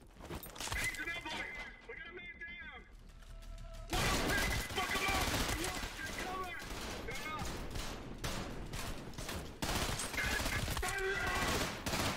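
Gunfire in the shooter game Trepang2 crackles in dense bursts through most of the passage, loud and close, mixed with other game sounds and a talking voice.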